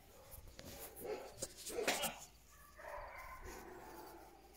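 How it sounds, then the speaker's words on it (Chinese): A golden retriever lets out a short bark near the two-second mark, close and moderately loud, with softer whimpering sounds and a person's voice around it. "听到狗狗叫了没？"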